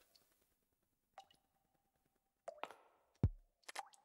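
Murky dark water dripping endlessly from beneath a painting's frame in the Pocket Mirror video game, heard as a few sparse, distinct plops and drips with quiet gaps between them, fairly close and otherwise alone.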